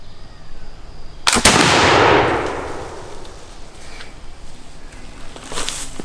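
Flintlock musket fired at a range: one loud, sharp report with a brief crackling flash before it, then a long decaying boom that rolls away over a few seconds, followed by faint outdoor background and clicks.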